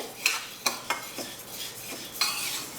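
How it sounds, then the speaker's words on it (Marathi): Rice dry-roasting in a wok over low flame, stirred with a metal spoon that scrapes and taps the pan in a handful of sharp, irregular strokes over a soft background hiss, close and fairly quiet. "आता हे उरलेले तांदूळ पण कढईत घालूया आणि ह्याला पण मंद गॅसवर भाजून घ्यायचे"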